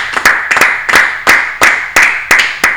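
Rhythmic congregational clapping fills a church service, sharp hand claps landing in a steady beat of roughly three per second, loud and close with no voices over them.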